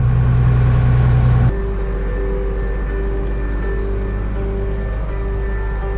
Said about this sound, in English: Dad's running the Packer tractor now.